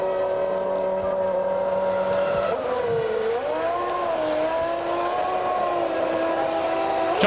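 A 1995 Formula One car accelerates out of the pit lane at the Italian Grand Prix at Monza, its high-pitched engine whine holding steady, then dipping and rising through a gear change, loud and continuous without talk.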